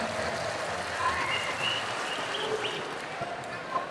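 An audience at an Indonesian village cooperative event claps together in a steady wash of applause, moderately loud and continuous throughout.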